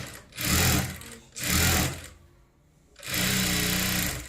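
A sewing machine runs in three bursts while stitching a folded strip for a lined katori blouse, each a close, loud buzzing whir, separated by short pauses and a longer gap before the final run.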